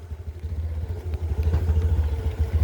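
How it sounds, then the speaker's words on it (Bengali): A motorcycle on a muddy track, its engine running low and steady while the wheel stays stuck and slips in the mud, with faint clatter partway through. "কাদার মধ্যে না স্লিপ কাটে গাড়ি, মানে চাকা"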